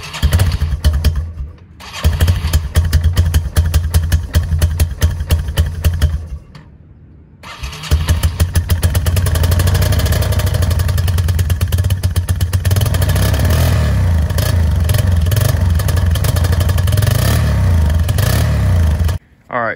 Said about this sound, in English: So let's get this thing started, let it warm up for a bit, and then we will adjust the idle.